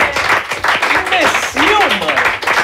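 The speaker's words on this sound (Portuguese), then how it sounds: "Palmas!" A few people clap rhythmically and close by on a Brazilian football show, the claps interleaved with excited, overlapping shouting voices.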